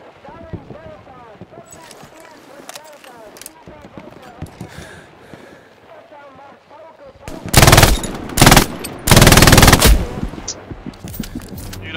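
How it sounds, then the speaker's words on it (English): In the World War II shooter Hell Let Loose, a nearby machine gun rips off several loud, dense bursts, breaking through softer distant gunfire and player voice chat. "MG close."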